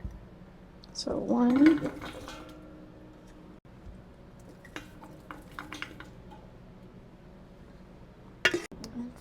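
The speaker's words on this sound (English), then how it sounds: "So I just have my quart jar here and my bowl of blueberries I'm scooping out of." A quart jar scoops blueberries out of a bowl, a short burst of glass scraping and rattling berries near the start, followed by faint clinks under a voice counting.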